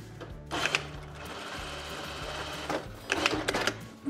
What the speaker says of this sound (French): je vais le faire à la machine à coudre.